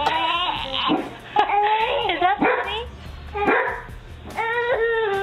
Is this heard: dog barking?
yes